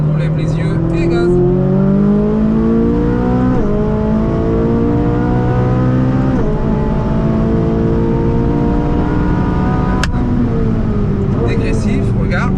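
A Ferrari 458 accelerating hard on the Circuit des Ecuyers, its engine note climbing loud and close through the gears, with rising whine and a quick shift, while a driving instructor talks over it.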